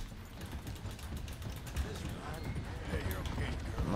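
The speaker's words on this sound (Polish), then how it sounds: "To jest koń arabski, tak," Hooves of a white Arabian horse with black hair in Red Dead Redemption 2 clop in a steady rhythm, loud and close, underneath someone talking.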